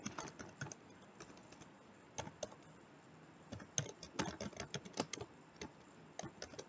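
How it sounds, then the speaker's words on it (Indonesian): A computer keyboard is typed on quietly, with irregular bursts of soft key clicks, sparse at first and then quicker and denser, against a faint room hush. "Kita ketik di sini."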